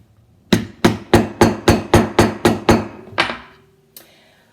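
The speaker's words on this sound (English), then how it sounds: "And now I'm going to smash the end with my hammer." Nine rapid, evenly spaced hammer blows smash the end of a flower stem on a hard board, followed by two slower, lighter hits, close and loud.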